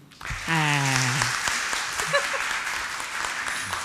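At an international seminar, an audience breaks into sustained applause that holds steady for several seconds, after a brief voice at the start.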